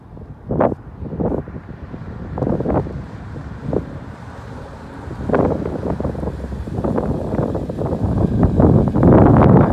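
Wind blows outdoors across an open microphone, making a rough, rumbling buffet with gusty surges that grow stronger and more constant toward the end. No voices are heard.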